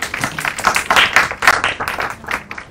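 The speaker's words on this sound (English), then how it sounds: "So a big applause for us." An audience at an evening business event hosted with a Thai-Norwegian chamber of commerce claps in a dense, close burst of applause lasting a few seconds, loud and without speech over it.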